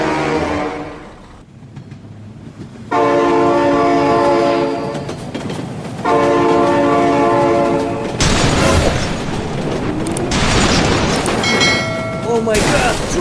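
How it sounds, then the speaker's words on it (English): A train in the BeamNG.drive video game rumbles past loudly with clattering wheels, its horn blaring in long sustained blasts separated by a short gap, the rolling noise continuing underneath throughout. "Oh my god, train!"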